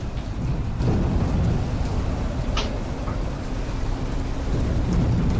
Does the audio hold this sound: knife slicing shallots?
no